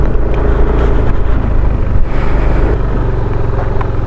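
Yamaha NMAX v2 scooter-style motorcycle climbing a muddy off-road track, its engine roaring loud and close in a continuous strained drone with wind buffeting the microphone.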